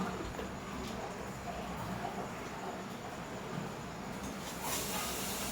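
A steady hiss of steam comes from a pressure cooker whistle while egg tadka cooks, continuous and moderately loud, with a slight swell near the end.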